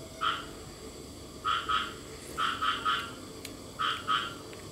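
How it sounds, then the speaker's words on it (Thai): Small frogs croaking close by in the middle of a rural house yard, sounding in short doubled and tripled bursts with brief pauses between groups, over a quiet background. "นี่เสียงเขียดอีโม่บ่ครับ"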